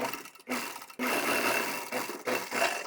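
A sewing machine stitching lehenga lining runs in steady bursts, stopping briefly twice before starting again, loud and close with a constant whirring rattle.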